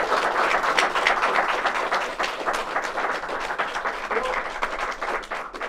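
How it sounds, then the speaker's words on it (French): An audience applauds a guest named Sophia at the close of a live French science talk show episode, with sustained, even clapping at moderate volume that tapers slightly near the end, under a light murmur of voices. "Vous pouvez applaudir Sophia."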